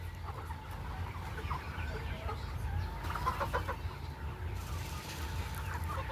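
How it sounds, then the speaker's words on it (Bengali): Chicken clucking at close range, a steady run of soft clucks and murmurs from a hen in a backyard flock, with low background rumble and no speech. "এটা একটা মুরগ।"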